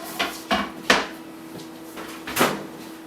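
An oven door creaks and knocks open in a home kitchen where a leg of lamb is roasting, giving several short wooden thumps and clunks, moderately close, with a faint steady hum underneath and no talking.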